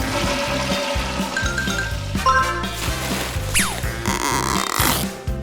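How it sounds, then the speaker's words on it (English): A toilet flushes with a gurgling rush of water and glugging drainage, accompanied by a rhythmic pulsing thump and a brief rising squeak, close and fairly loud with no talking. "And flush!"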